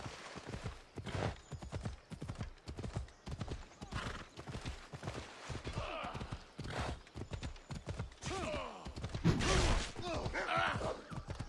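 Horse hooves clip-clop steadily in the video game Assassin's Creed Odyssey, a quick repeating gallop rhythm up close, with an occasional whinny and creaks, under loud game action.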